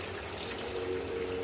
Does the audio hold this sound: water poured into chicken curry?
yes